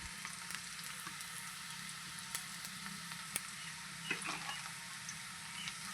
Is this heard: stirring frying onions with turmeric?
yes